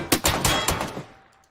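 Close, loud gunfire from a Bison submachine gun in PUBG, a few rapid bursts of shots ringing out and fading over about a second, no talk.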